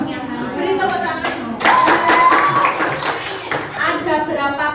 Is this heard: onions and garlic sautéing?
no